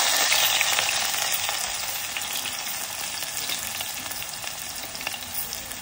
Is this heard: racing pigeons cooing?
no